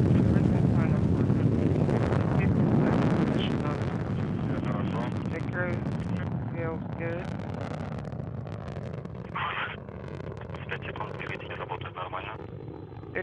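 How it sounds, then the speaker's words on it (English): A Soyuz TMA-06M rocket heading to the International Space Station roars broadly and steadily after liftoff from its four boosters and single engine, fading slightly over time, while radio voices talk over it. "The Soyuz delivering 102 tons of thrust from its four boosters and single engine."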